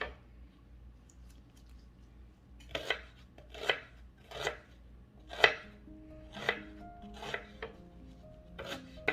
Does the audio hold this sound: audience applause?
no